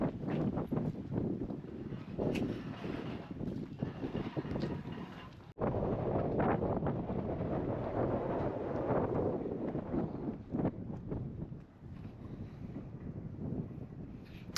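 Steady wind buffets and roars across an open coastal spot near Saranda, Albania, loud and continuous for the whole stretch with gusty swells and no talk.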